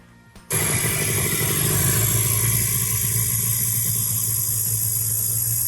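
A Willys Jeep engine turns over and catches after brief quiet, then settles into a steady, loud, close idle with an even low rumble that holds to the end, with no talk.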